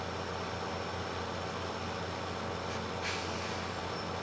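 Steady, continuous drone of a small Massey Ferguson 135 tractor engine, roughly 30 to 35 horsepower, in Farming Simulator 17, holding an even, unbroken level throughout with no talk over it.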